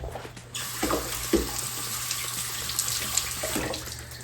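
Water runs steadily from a kitchen tap as prepped carrots are rinsed, a continuous splashing hiss with small bumps and clatters from handling, close up and without talking.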